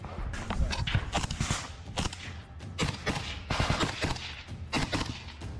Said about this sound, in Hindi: यूक्रेनी सेना का एक फौजी अचानक बंकर से अपनी AK-47 असॉल्ट राइफल से ताबड़तोड़ गोलियां बरसाना शुरू कर देता है